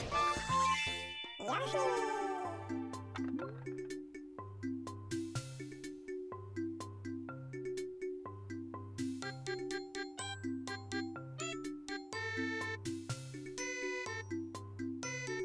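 Yoshi's theme from the Mario Party 10 video game on a Yoshi amiibo board, a bouncy, chiming electronic tune with a steady repeating bass pattern and bright bell-like melody, played quietly throughout.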